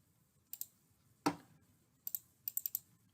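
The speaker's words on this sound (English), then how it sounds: "So we're in the middle of typing this last name." Sharp plastic key clicks on a computer keyboard come in short sparse bursts, a single heavier stroke followed by quick rapid runs of taps, close and clear against a quiet room.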